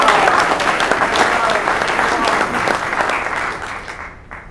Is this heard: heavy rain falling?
no